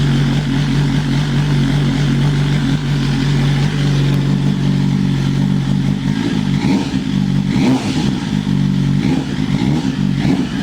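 A 2022 BMW S1000RR sportbike with a de-cat exhaust idles just after a cold start, a loud, steady, close-up burbling drone with slight fluctuations and no talking.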